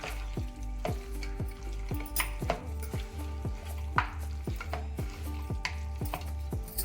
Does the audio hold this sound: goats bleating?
no